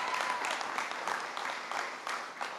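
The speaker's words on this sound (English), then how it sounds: "You can go ahead and clap." Audience applause at a presidential jobs speech in Chesterfield, Virginia, steady, dense clapping from a large crowd filling the whole stretch, loud and close with no pauses.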